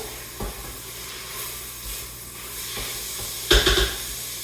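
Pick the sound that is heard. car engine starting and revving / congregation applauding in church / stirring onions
stirring onions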